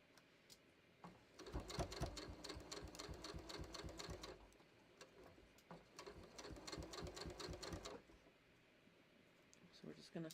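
A sewing machine stitching slowly on a top, heard as two close bursts of rapid mechanical needle clatter with brief pauses between them, then a quiet gap and a few final clicks.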